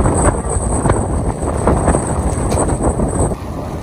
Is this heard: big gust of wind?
yes